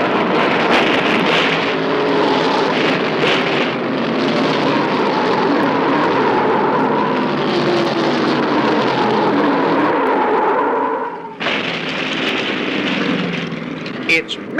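Stock cars roaring at speed through the third turn during a crash at the 1975 Daytona 500, a dense continuous engine drone with announcer talk over it and a brief dip before the roar resumes.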